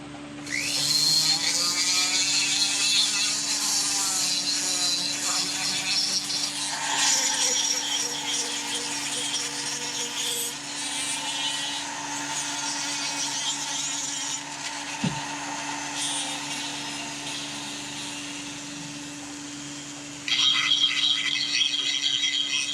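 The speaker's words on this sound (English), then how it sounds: "I'm taking this extra coarse Sawzall bit here, and I'm just rounding off all the edges." An extra coarse Sawzall reciprocating-saw bit rounds off the edges of a wooden fish-carving habitat base, giving a steady, loud buzzing rasp that runs almost continuously, with a short dip in the middle and a louder burst near the end.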